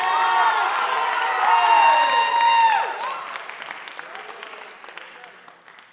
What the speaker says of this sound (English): Give him a big round of applause, because he deserves it